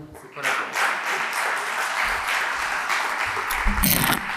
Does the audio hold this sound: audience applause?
yes